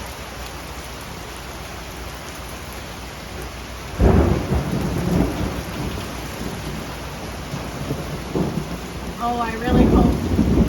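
Heavy rain from an Ontario thunderstorm pours steadily outside a garden shed, broken by a loud, close thunder crash and further rumbles, with a brief spoken remark near the end.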